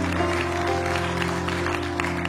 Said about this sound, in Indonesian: Kasih tepuk tangan dulu buat Tuhan ya.